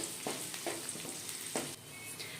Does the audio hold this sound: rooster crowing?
no